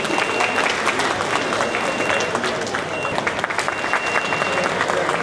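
A crowd applauds at the closing of a computer trade fair, with sustained, dense clapping at even loudness throughout and faint voices mixed underneath.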